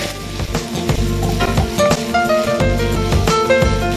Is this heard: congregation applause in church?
no